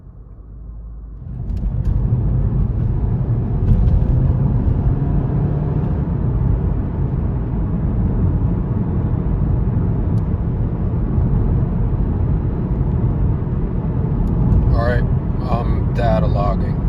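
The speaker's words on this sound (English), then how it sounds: "Data logging. Third gear pull. Definitely breaking up." A VW MK7 Golf R with a cylinder 3 misfire pulls hard through third gear, its loud steady engine drone and rumble roaring under a voice, with faint stuttering near the end as the engine breaks up.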